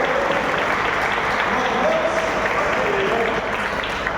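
Baptist church congregation applauding in praise of Jesus, a broad, steady roll of many hands clapping at once, with faint voices rising briefly through it.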